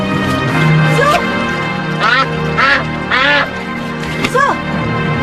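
Loud close duck-like quacks from a bird, several drawn-out honking calls spaced over a few seconds, with a steady tonal drone under them.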